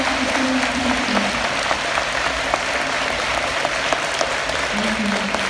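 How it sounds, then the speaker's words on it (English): A school audience at a Veterans Day program applauds veterans with sustained, even clapping that fills the hall for several seconds, steady and fairly loud, with faint voices underneath. "give you a round of applause"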